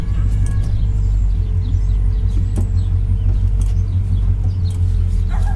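Deep, steady exhaust rumble from a customized 1996 Chevrolet Caprice Impala SS idling through aftermarket mufflers, loud and continuous, with faint outdoor chirps in the background.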